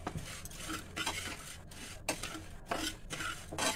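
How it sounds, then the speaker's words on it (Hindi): Vermicelli frying in a little oil in a pan over a low flame, with repeated scraping and stirring strokes against the pan and a faint sizzle underneath, close and steady. "हल्का सा इसमें ऑयल डाल देंगे और इसको लो फ्लेम पे इसको फ्राई कर लेंगे अच्छे से"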